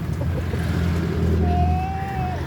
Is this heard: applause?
no